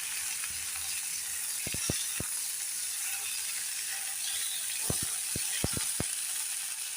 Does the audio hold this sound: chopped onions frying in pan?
yes